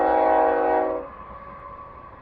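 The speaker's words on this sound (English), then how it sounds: "It is kind of neat to see the old trains go by." An old train sounds its horn near a highway campground in Trinidad, Colorado, a loud sustained blast that cuts off after about a second and leaves a low rumble of passing rail cars.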